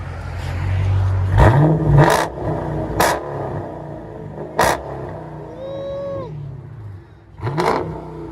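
A Dodge Challenger SRT with a 6.4L HEMI V8 and loud exhaust revs in several sharp bursts over a low rumble, with a brief whirring whine partway through.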